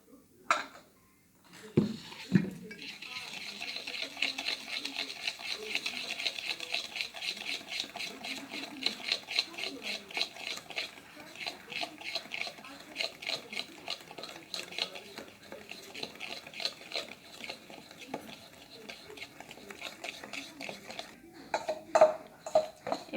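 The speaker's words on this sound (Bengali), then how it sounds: "অর্ধেকটা দিয়ে আমি আগে একটু মিশিয়ে নেবো" Flour is worked into fruit cake batter in a bowl, with a long stretch of quick, rhythmic scraping and tapping strokes, fairly quiet and close, and a few heavier knocks at the start and end.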